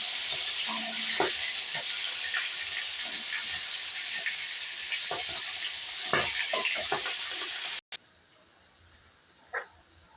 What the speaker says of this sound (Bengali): মাছটা আমি ভাজতে শুরু করে দিয়েছি, মাছটা ভাজা হচ্ছে।